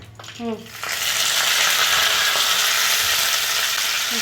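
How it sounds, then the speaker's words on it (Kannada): Mustard seeds spluttering in hot oil for a tempering, a loud continuous crackling sizzle that bursts in after a brief voice and holds steady, close by. "ಸಾಸಿವೆ ಚಿಟಪಟ ಅಂದಮೇಲೆ ಕರಿಬೇವು ಸೊಪ್ಪು"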